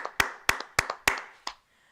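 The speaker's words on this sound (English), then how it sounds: "Let's clap it up for Buffalo there, people." Five sharp hand claps ring out close and loud, evenly spaced at first with a softer double clap between them, the last one quieter, leaving a moment of silence at the end.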